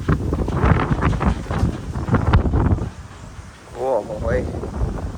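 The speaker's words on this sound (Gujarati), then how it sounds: "પવન જો આવે." Gusty wind buffets the microphone outdoors on a horse farm, a loud, rough rumble that swells and eases while someone talks over it.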